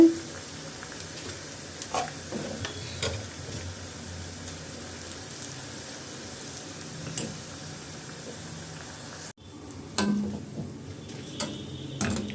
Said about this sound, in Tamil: இதே போல் எல்லாத்தையுமே பொறிச்சு எடுத்துடலாம்